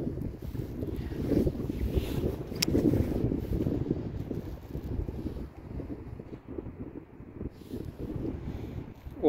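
Steady outdoor wind gusting on a sunny day, loud continuous rumbling buffeting across the mic with no speech.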